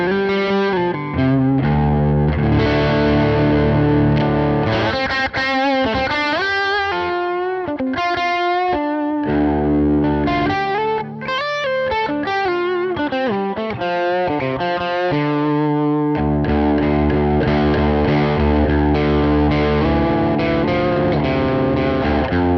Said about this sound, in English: Let's hear what this same amp is like once it's been run through a NAM capture and loaded up on the GP-5.